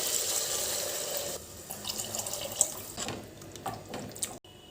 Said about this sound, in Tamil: இந்த டம்ளரில் ஒரு டம்ளர் ரைஸ் எடுத்துருக்கேன் அதுக்கு ரெண்டு டம்ளர் தண்ணி சேர்த்துக்கிறேன்